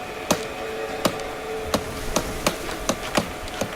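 Peasants hammer while building a house in the video game Manor Lords, sharp wooden knocks falling about every half second to second, fairly close and distinct above a quiet ambient bed.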